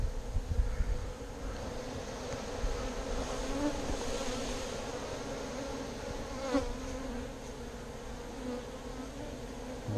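Honeybee swarm buzzing steadily during a swarm capture with the frame method by a beginning beekeeper in Texas: a dense, continuous drone of many bees close to the microphone, with slight wind noise and no talk.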